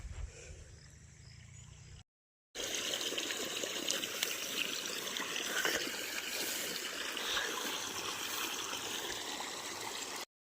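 Water runs in a field channel in a village at sunset, a steady, close rushing trickle that fills most of the clip after a brief quieter start and a short silent gap.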